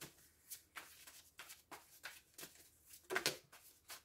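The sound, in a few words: oracle cards being shuffled and drawn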